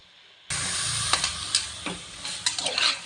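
Mutton stirred into a hot oil and onion tempering in a pan for mutton sambar, giving a steady close sizzle with scraping stirs and a few sharp clinks of the spoon against the pan.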